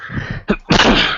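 A sneeze bursts out near and loud mid-conversation indoors, with a short sharp intake and a broad explosive release following murmured talk.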